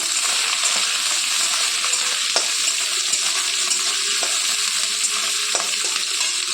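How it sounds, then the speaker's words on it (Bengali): Shrimp and chili stirred and fried in a pan, a constant bright sizzle with occasional clinks and scrapes of the spoon against the pan, close and steady, no voices. "চিংড়ি মাছ আর লঙ্কাটাও দিয়ে দিলাম। একটু নেড়ে চেড়ে নেব।"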